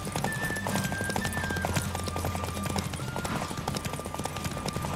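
Galloping horses in a Witcher 3 video game horse race, rapid steady clip-clop hoofbeats with occasional whinnies over continuous game sound, loud and close throughout.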